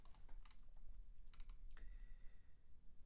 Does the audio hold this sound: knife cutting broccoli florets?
no